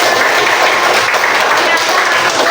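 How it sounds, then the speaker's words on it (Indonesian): A classroom of children claps their hands together in a steady, dense round of applause, loud and close, filling the room for a couple of seconds. "Oke, bagus sekali, tepuk tangan."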